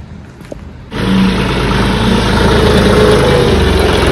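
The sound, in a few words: tractor engine running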